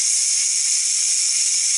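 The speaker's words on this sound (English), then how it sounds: "Turn it over to your right, or my right, or its right, from there to there. And it'll start letting off steam." Steam hissing steadily from the pressure release valve of a Ninja Foodi pressure cooker, a bright, even, continuous hiss held close and loud throughout.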